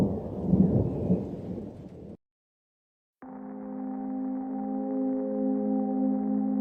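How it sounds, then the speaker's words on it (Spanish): A heavy downpour with rumbling thunder on a city street outside a metro station, loud at first, then cutting to silence before a sustained tonal drone takes over. "llovía intensamente afuera"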